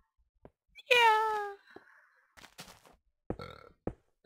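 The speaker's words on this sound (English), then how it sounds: "I still say excuse me whenever I burp" A person lets out one loud, drawn-out burp of about half a second, followed by a few short, quieter throaty sounds and clicks in an otherwise quiet room.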